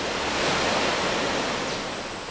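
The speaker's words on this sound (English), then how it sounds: "we have a lot of waterfalls" Waterfall in Cat Tien National Park, a steady, broad roar of rushing water holding at a constant loud level throughout, with no voices.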